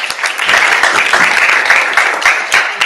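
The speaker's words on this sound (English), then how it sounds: "Should we clap for Josh first?" Audience clapping after a presentation, a dense steady round of applause from a small group that continues for the whole stretch with no voices.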